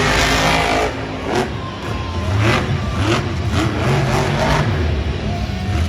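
Max D monster truck at a Monster Jam freestyle event in Anaheim, its engine revving loudly in repeated surges over steady crowd and arena noise.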